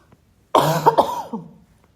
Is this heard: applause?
no